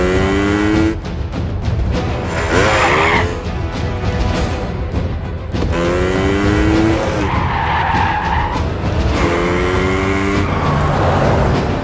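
A motorbike speeds off hard with its tires skidding, a loud screech that sweeps and repeats over a heavy engine roar for the whole stretch, close and dominant.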